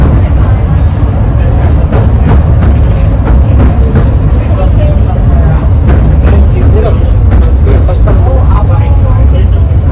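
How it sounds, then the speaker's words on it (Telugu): The Southend Pier train on the UK's longest pier rumbles loudly and steadily from on board, its wheels and carriage noise continuous, with voices in the background. "సిటీలో ట్రైన్ వెళ్తుంది. వెళ్తున్నాం ట్రైన్లో."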